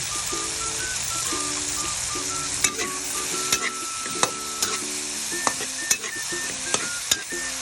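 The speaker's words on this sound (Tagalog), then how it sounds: "Sunod lagay natin itong dalawang isda na hinimay natin." Flaked fish sizzles steadily in a hot pan while a utensil stirs and scrapes it, with occasional sharp clinks against the pan and faint tonal beeps in the background.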